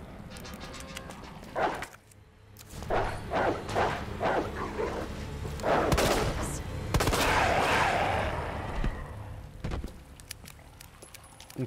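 Zombie dogs bark and yelp repeatedly in the Resident Evil 2 Remake video game, loud and close, with sharp gunshot pops mixed among the barks and no talking.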